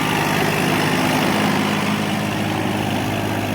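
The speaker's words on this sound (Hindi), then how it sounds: "अब हम इस ट्रैक्टर के कल्टीवेटर पर चलते हुए 10-35, केवल 35 हॉर्स पावर का ट्रैक्टर है, 9 टाइन के कल्टीवेटर है।" A Massey Ferguson 1035 tractor, a 35-horsepower machine, drives a 9-tine cultivator through a field, its engine a loud, close, steady diesel drone that holds constant throughout without a break.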